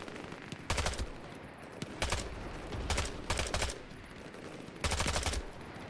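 Bursts of automatic gunfire in the Vietnam war shooter Hell Let Loose: Vietnam, several short loud volleys separated by pauses over a low background rumble, with no talk.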